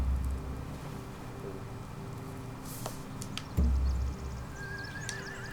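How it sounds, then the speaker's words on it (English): A horse in The Walking Dead video game whinnies with a thin, wavering call near the end, over a steady low ambient hum and a single dull thump partway through. "They have horses."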